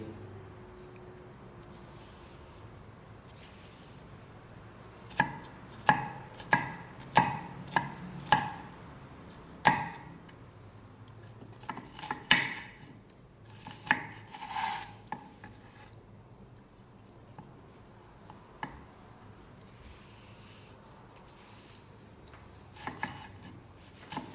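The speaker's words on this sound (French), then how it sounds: "Ça nous permet d'avoir un oignon haché fin et régulier." A knife finely chops an onion on a cutting board, with a quick run of sharp, close taps in the middle and scattered softer knocks and scraping afterward.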